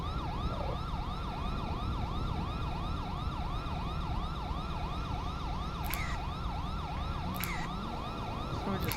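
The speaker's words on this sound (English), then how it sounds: "I really wish this ambulance would kind of get out of the way so that they can cut off their sirens" Wailing ambulance siren in the GTA V LSPDFR police mod, sweeping up and down in a steady repeating cycle, loud and continuous over traffic rumble, with a few brief sharp chirps near the end.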